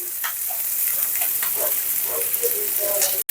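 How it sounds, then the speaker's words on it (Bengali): Onion and green chili fry in hot oil with a loud, continuous crackling sizzle and occasional soft popping, ending with a sharp knock. "আর এই যে তেল দিয়ে দিচ্ছি পেঁয়াজ কাঁচামরিচ দিয়ে একটু ভেজে নিয়ে আমি মশলা কষিয়ে নিয়ে রান্না করব"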